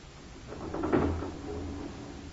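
A lift worked by hand in an old-time radio drama, with a low mechanical rumble and a thudding clank near the middle, close and moderate in level.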